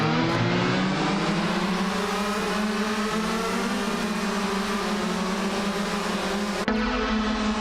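A pack of 2012 shifter karts launches off the line at a race start, engines droning loud and close with steadily rising pitch, then a brief gear-change blip near the end.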